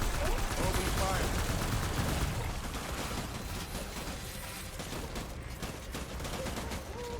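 Dense video-game gunfire rattles in continuous bursts like machine-gun fusillades, loud and close at first, then easing slightly while still sustained throughout.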